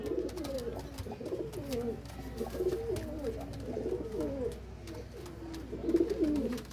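Pigeons for sale, about ten pairs in a Faisalabad loft, coo steadily in soft overlapping rolling calls that go on throughout and swell slightly near the end. No one speaks.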